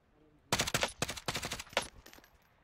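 Bursts of LMG fire in the Warzone video game, several rapid volleys packed close together over about two seconds, loud and up front with a quieter tail.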